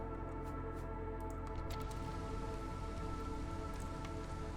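Steady rain falling in the colony-building game Against the Storm, a dense, even patter of drops on surfaces that runs through the whole stretch at low volume, with a faint tonal game hum beneath it and no voices.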